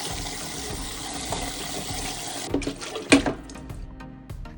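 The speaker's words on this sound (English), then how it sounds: "rinse the boiled chicken once in cold water" Cold tap water runs steadily over boiled chicken pieces in a sink, a continuous splashing wash that breaks into brief sputters, drips and clatters toward the end as the flow is interrupted.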